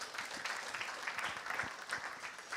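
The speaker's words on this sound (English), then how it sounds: "Please give them a round of applause." Audience applause for competing secondary schools at a national science and maths quiz championship launch, a dense, continuous clapping from a crowd filling the whole moment.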